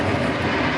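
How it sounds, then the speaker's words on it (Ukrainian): Drone flying overhead during wartime attacks on a Ukrainian town, heard as a steady, loud droning engine hum with broad noise, continuous and unbroken throughout. "Безпілотник."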